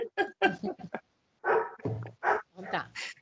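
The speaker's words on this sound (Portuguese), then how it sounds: "seu cachorro ficou nervoso aí, tá vendo?" A nervous dog barks in quick bursts, several sharp close yips and barks in irregular clusters separated by brief silences.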